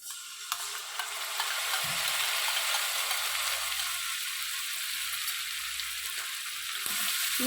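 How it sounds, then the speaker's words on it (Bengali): Ginger, tomato and chili spice paste with salt, turmeric, chili powder and a little sugar fries in a pan for a Bengali rohu fish curry, giving a steady close hiss and sizzle with a few soft stirring scrapes. "ভালো করে কষাবো মশলার কাঁচা গন্ধটা চলে যাওয়া অবধি আমি কষাবো"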